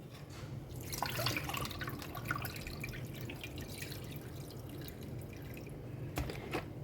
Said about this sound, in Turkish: Yine aynı şekilde ıvvalaya ıvvalaya bu suyu da döküyorum